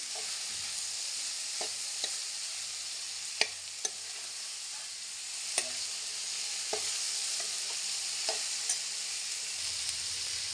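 Tomatoes and chilies frying in a pan for a bhindi dish, a soft continuous sizzle punctuated by scattered spoon clicks and taps against the pan, fairly quiet and without talk.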